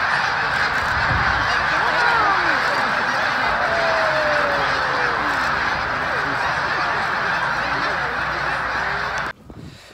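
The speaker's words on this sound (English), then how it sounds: "A whole group of tundra swans, a new bird for my quest for 2020." A flock of tundra swans calls with dense, overlapping honks and whoops at close range, continuous and loud throughout, ending abruptly.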